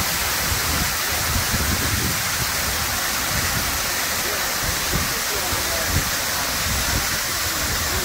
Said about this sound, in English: We're in front of the waterfalls here at Chimney Rock.